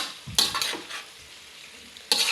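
Ground pork sautéing in a pan, with quiet sizzling under a few sharp bursts of stirring and scraping, close by, and no talk.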